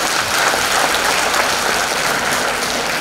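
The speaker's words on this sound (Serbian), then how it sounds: "Ako može, mali aplauz za mene da mi prođe Dragan." An audience at a charity concert applauds the presenter, a dense, loud wash of many hands clapping continuously for a few seconds with no break.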